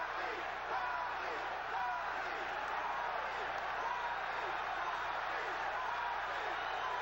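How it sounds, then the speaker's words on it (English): A dense boxing arena crowd roars and chants steadily for Muhammad Ali at the Sugar Ray Leonard vs Thomas Hearns II fight, a continuous loud wall of voices with no break. "the crowd has been chanting for Muhammad Ali"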